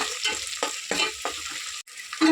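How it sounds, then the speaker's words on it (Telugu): Ginger paste frying in oil for chicken haleem, sizzling steadily while a spoon scrapes and stirs in several distinct strokes, close and fairly loud. "అల్లం పేస్ట్ బాగా వేసుకోండి ఎర్రగా"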